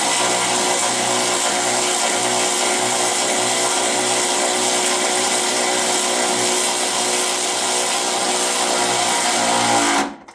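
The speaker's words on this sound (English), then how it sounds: "This is my electric ratchet." A Hyper Tough electric ratchet, used during a radiator change on a Dodge RAM 1500, whirs loudly and continuously at close range for about ten seconds before stopping abruptly.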